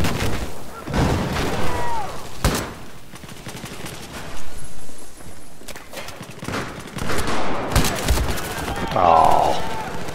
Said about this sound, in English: We spotted hostile machine gun.